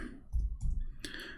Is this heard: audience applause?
no